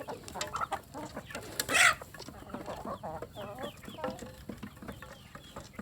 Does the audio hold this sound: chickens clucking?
yes